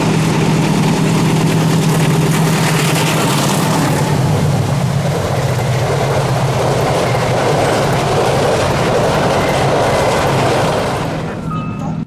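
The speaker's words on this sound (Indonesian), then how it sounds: "Loko pertama yang saya lihat adalah CC20303 dengan stiker kawah ijen menarik rangkaian eksekutif ekonomi" Locomotive CC20303 pulls a passenger train past close by, a loud continuous rumble and rattle of rolling wagons with clattering wheels that fades slightly at the very end.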